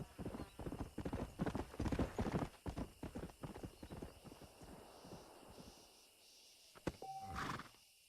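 Horse hooves clip-clopping in Red Dead Redemption, a stallion trotting in a steady, rapid rhythm for several seconds before easing off, followed by a short whinny-like call near the end.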